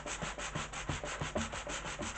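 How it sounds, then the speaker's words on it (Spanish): Sandpaper rubbed by hand over a worked wooden piece during restoration, after scraping with a spatula, giving steady rasping strokes in an even back-and-forth rhythm, close and continuous with no talking. "vamos a darle una pasadita de lija"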